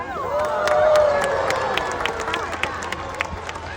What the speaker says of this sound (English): do keep the applause going because we are now welcoming our Keeper Michelle here